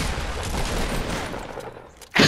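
A burst of gunfire in the Fortnite video game crackles loudly and continuously, fading over about two seconds before an abrupt sharp sound at the end.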